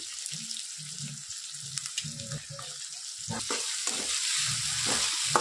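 Tomatoes go into a hot pan with chopped green chillies and capsicum, giving a steady hiss of frying under bumps and scrapes of stirring, with low voices murmuring in the background.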